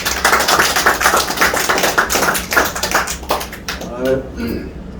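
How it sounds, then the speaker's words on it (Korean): A room of listeners claps for a guest at a year-end forum lecture in Seoul, a dense, fairly loud patter of hands that thins and fades toward the end as a voice comes in. "박수 한번 주십시오."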